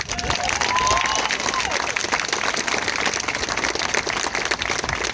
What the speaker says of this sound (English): I think that deserves another hand clap.